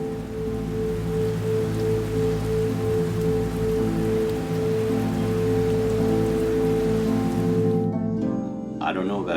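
Heavy rain pours steadily as a sound effect in a dramatic story reading, a dense continuous hiss with a low droning bed beneath, cutting off near the end.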